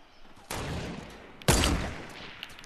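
Gunfire in the video game Fortnite comes as two bursts a second apart, the second sharper and louder, with no talking.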